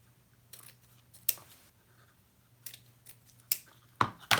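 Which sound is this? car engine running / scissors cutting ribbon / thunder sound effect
scissors cutting ribbon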